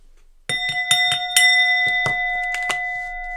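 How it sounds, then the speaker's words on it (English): A struck bell rings out in a quick series of bright, ringing dings, about eight strikes with uneven spacing, the clear tone sustaining and overlapping between hits. "Let me hit the bell."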